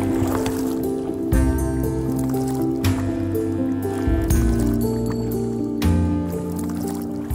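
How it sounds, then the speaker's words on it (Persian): A rowboat being rowed on water, with a steady droning background and intermittent splashing and dripping as the oars stroke, each stroke marked by a sudden shift in the sound. "حالا شروع کنیم به قایقرانی."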